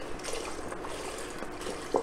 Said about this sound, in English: 4 cups of vegetable stock or chicken stock.